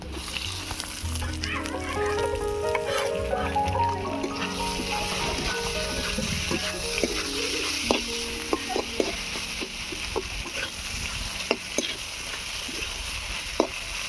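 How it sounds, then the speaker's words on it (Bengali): Fish pieces frying in oil for a bitter fish dish with ginger and garlic, a loud, steady crackling sizzle throughout with scattered utensil clicks and scrapes as they are stirred, no speech. "এবারে দিয়ে দেবো ছাড়িয়ে রাখা মাছগুলো"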